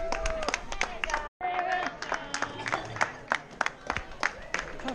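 Spectators at the finish of the Isle of Man Parish Walk race clap in a crowd outdoors, quick scattered claps continuing over several seconds with a brief dropout, voices mixed in.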